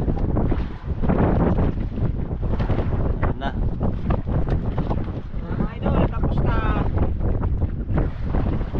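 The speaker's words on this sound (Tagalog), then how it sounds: "Malakas yung hangin." Strong wind on a fishing boat out at sea roars continuously into the microphone with loud gusty buffeting and water noise beneath, while someone talks over it.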